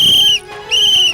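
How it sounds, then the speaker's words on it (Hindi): Two long, loud whistle blasts separated by a short gap, clear and close with no talking over them. "3 बार सीटी बजाई, इनको पंच चाहिए।"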